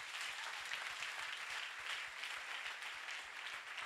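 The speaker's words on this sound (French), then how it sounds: "Acclame très fort la victoire en Christ." A church congregation applauds in a sustained, even wash of clapping that runs for several seconds without a break.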